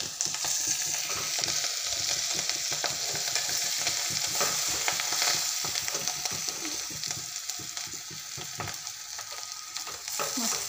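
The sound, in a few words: washed cowpea leaves added to hot oil, sizzling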